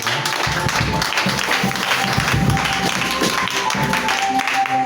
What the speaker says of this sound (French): Un applaudissement pour frère Luc Neff